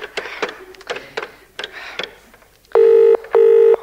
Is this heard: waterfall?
no